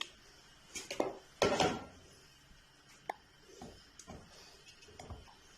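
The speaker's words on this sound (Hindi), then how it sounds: "यहाँ सबसे पहले हम जो है वो डेचके में गाजरें डालेंगे।" Grated carrots going into a large metal cooking pot make a quiet soft tumbling rush, followed by sparse light metallic clinks and scrapes against the pot.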